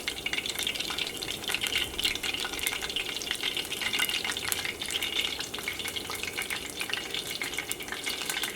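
Chicken kabab vada deep fries in hot oil, giving a continuous soft crackle and bubbling sizzle that stays steady and fairly quiet throughout, with no talking.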